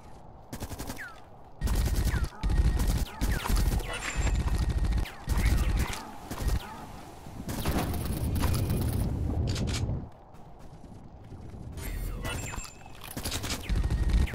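Heavy gunfire from a big gun in The Red Solstice, loud bursts of rapid shots in uneven clusters with a sustained volley in the middle, heard alongside players chatting.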